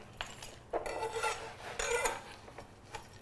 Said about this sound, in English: I've got the back of the knife, so I don't want to cut my hand